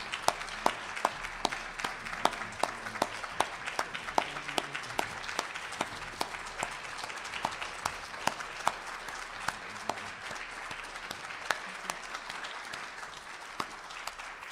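Sustained applause from an audience congratulating author Terry Miller at a Pittsburgh book event, dense steady clapping with sharp individual claps standing out, holding at an even level throughout with no talk.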